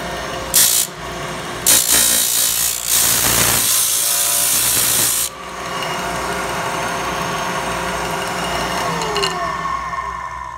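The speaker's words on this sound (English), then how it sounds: "we're gonna turn it on here and show you that it works" A Lagler Unico 7-inch hardwood floor edger sander with dust bag, on 120 volts, starts with a few loud bursts, then whirs and grinds loudly before dropping to a steadier, quieter running hum.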